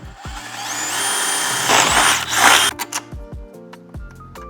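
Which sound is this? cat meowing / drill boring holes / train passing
drill boring holes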